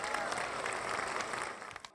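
Studio audience on a Nepali comedy talent show audition clapping steadily for a contestant, a dense, sustained burst of applause that trails off near the end.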